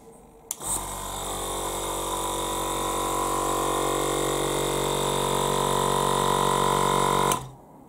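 An Iwata Smart Jet Plus handle-tank airbrush compressor hums steadily for several seconds while filling its air tank, a quiet, even drone with a faint buzzing edge. It starts and stops abruptly, and nothing else is heard.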